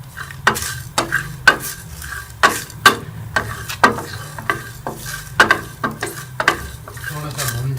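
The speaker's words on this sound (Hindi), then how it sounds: "1 मिनट के लिए हम मीडियम आंच पे इसे रोस्ट कर लेंगे" Whole spices and coriander seeds dry-roasting in a pan on medium heat, with a spatula scraping and tapping about twice a second in a steady rhythm, close and fairly loud.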